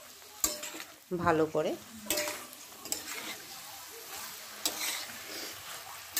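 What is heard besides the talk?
stirring lightly fried chicken and potatoes in a kadai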